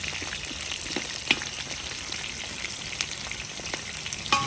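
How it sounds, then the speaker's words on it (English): Potatoes deep frying in oil for a Kazan kebab dish of beef, potatoes and vegetables, a steady close crackling sizzle with scattered sharp pops and spatters throughout. "to fry the potatoes"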